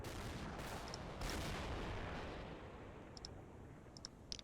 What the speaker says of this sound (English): Urban's still under artillery fire.